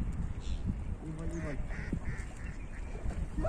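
Faint goose honks and quacking calls by a river, a few short bursts, under steady background noise with some distant voices.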